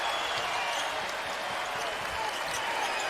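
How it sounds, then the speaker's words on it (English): Arena crowd at a college basketball game between Baylor and Gonzaga, a broad, steady roar of cheering and clapping with faint court thuds beneath, sustained throughout with no pause. "Cheering on their Zags."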